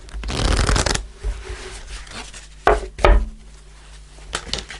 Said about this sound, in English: I'm going to pull a fairy card, Sagittarius, to finish off the reading.